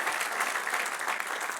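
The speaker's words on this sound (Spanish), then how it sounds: "Denle un aplauso al Señor" Church congregation applauding in a steady, dense wash of clapping across a room, continuous and moderately loud with no talk.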